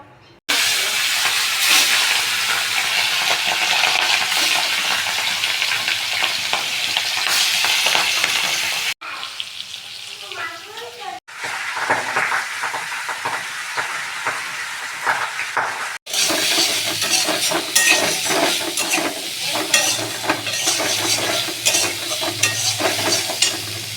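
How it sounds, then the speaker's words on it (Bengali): Boal fish fries in oil in a pan, a loud continuous sizzle and spatter that drops away briefly twice before resuming at full strength. "বোয়াল মাছগুলো ভেজে নিয়েছি।"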